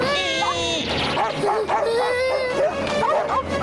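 Cartoon dogs from a Motu Patlu animated episode barking, yipping and whimpering as they attack their trainer, excited overlapping canine calls close up with a voice shouting among them.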